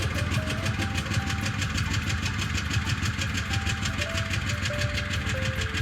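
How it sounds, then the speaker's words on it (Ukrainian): A 2007 Skoda Fabia with ignition misfires on the second cylinder idles steadily, its exhaust a continuous loud, rough drone with a faint irregular pulsing throughout and no voices. "Одразу послухаємо рівномірність вихлопа"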